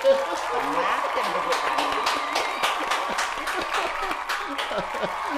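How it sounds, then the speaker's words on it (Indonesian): Studio audience applause during a Balinese-style show, a lively crowd clapping continuously with some laughter and voices mixed in, fairly close and steady. "Tepuk tangan, tepuk tangan."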